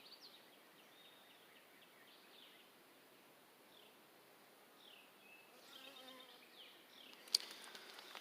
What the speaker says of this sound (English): Thousands of bees.